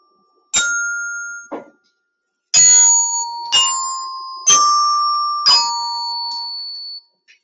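Keyboard percussion, likely glockenspiel or bells, plays measures 5 and 6 of a piece as a short phrase of bright ringing struck notes. The notes sound close and sustained, with a brief pause after the first strikes.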